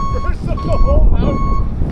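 Tow truck reversing alarm beeps repeatedly at a steady pitch, loud and close, over a rumbling diesel engine, with people talking at the same time.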